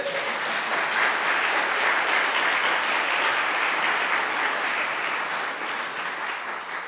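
A hall audience at a francophone debate competition final gives sustained, dense applause, a steady wash of many hands clapping that fades slightly toward the end.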